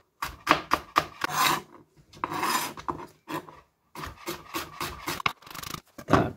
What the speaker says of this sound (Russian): И теперь я нарезаю фенхель тонкой соломкой.